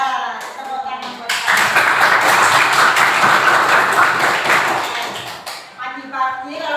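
Classroom of children clapping hands together in a loud, dense burst lasting about four seconds, with voices talking before and after.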